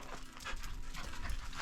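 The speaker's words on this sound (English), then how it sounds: "Yes, we have another dog." A Nova Scotia duck tolling retriever pants in quick, steady breaths, close and fairly loud, with faint whimpering mixed in and no talking.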